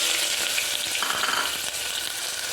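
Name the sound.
chopped onion frying in oil in cooker pot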